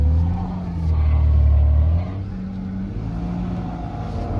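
A car stuck in reverse strains to drive out, its engine revving in a low, droning surge that swells for a moment and then settles into a steady labouring rumble, close and fairly loud.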